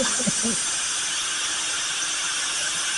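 A steady, loud hiss of steam escaping under pressure from a pressure cooker whistling while cooking dry fish and yellow cucumber curry, continuous throughout with a brief faint clatter at the start.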